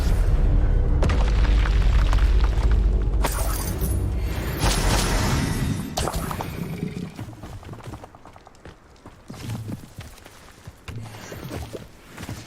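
Spells in Hogwarts Legacy, Confringo and Incendio, set off heavy booming blasts and fiery crackles, loud at first and then fading, with scattered thuds and impacts.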